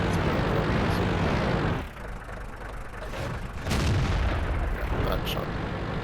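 A tank cannon fires in the World of Tanks video game, with a Hellcat tank destroyer on the Arctic Region map: a loud booming blast with a rumbling tail, followed by a second boom, over ongoing battle noise.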